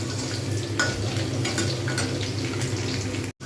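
Chicken pakora frying in hot oil while being stirred, a steady loud crackle with scraping and clinking from the pan throughout, no voices.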